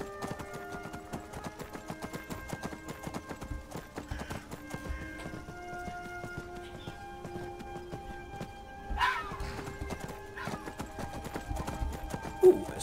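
Steady clip-clop of horse hooves at a walking pace in the video game Skyrim, close and continuous, with a brief whinny-like sound near the end and music-like tones underneath.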